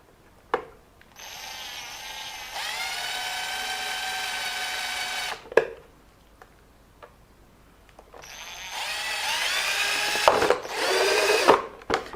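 A power drill bores holes through a 1:10 scale RC car body in two bursts, each a high whirring whine lasting several seconds, with brief clicks and handling noise between them.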